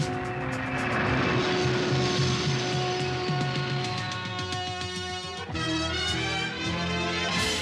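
A roaring jet-engine takeoff effect for Autobots lifting off in a French-dubbed Transformers G1 cartoon, loud and sustained with layered tonal whine and music-like harmonics throughout.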